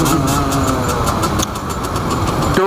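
A motorcycle engine accelerating at about 90 km/h gives a steady, loud, harmonic drone with a rhythmic pulse that shifts pitch near the end; no voices are heard.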